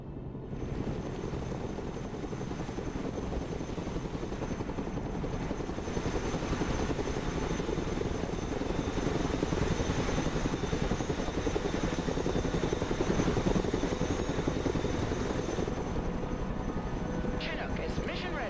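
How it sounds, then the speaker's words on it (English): A Chinook helicopter in the military video game Broken Arrow, its steady rotor and engine drone loud and continuous throughout, with game voices speaking over it. "Chinook reporting in."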